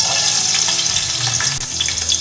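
A medium onion frying in a cup of oil or ghee for chicken yakhni pulao, a loud, dense, continuous sizzle with light stirring, close and alone.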